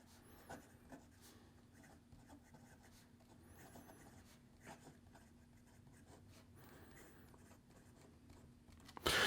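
A fountain pen with a 1.1 nib scratches softly across paper as a writing sample is written, faint strokes with short pauses against a quiet room hum.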